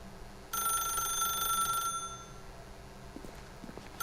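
An old-style telephone bell rings in The Stanley Parable, a single bright, loud burst lasting about a second and a half against a quiet ambient hum, then falling away to near silence.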